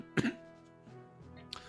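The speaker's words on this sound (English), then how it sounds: "I have to cough." A single sharp cough close to the microphone, followed by a softer throat-clearing rumble and a faint second catch near the end, in a quiet indoor room with no speech.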